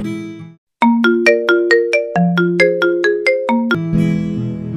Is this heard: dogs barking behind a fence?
no